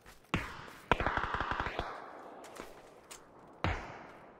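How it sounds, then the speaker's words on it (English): Gunfire in PUBG on the Miramar map: a single sharp crack, then a rapid automatic burst of about nine shots, a pause, and another lone shot, fairly close and loud with no talk. "And now I'm being shot from south."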